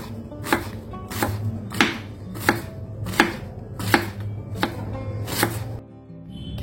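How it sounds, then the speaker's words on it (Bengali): Cabbage is finely chopped with a knife on a board, about eight crisp, evenly spaced chops in a steady rhythm, close and clear with no talking. "বেশ সময় দিয়ে ধৈর্য দিয়ে একটু মিহি মিহি করে বাঁধাকপিটা কোচানোর চেষ্টা করলাম"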